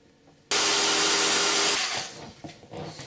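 After a brief quiet moment, a drill bursts on loudly and grinds steadily for over a second, drilling into a disc, then winds down into scattered clicks and rattles.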